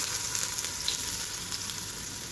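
Steamed jackfruit pieces fry in oil in a pan, giving a dense, steady sizzle that crackles close by without pause.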